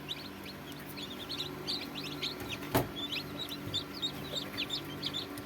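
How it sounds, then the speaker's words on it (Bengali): Tiger chicken chicks and quail chicks, European and Japanese, peep in a dense, continuous chorus of short, high chirps over a low steady hum, with one brief louder knock midway. "এই যে টাইগার মুরগির বাচ্চা"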